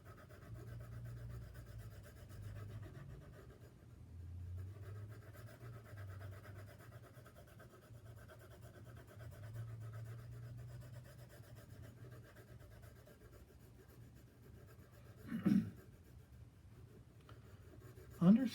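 A pencil shades darker value onto paper with soft, continuous scratchy rubbing strokes, faint and close, broken near the end by a couple of sharper taps.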